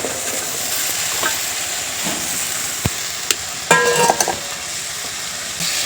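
Taro stolons stirred into shrimp in a frying pan, giving a steady close sizzle with scraping spatula strokes and a few sharp metallic clinks near the end.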